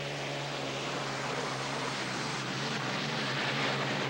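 Hydroplane racing boats roar at the start of a 1985 race, a continuous droning engine howl held at a steady level throughout.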